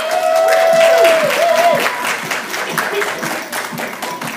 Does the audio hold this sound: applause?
yes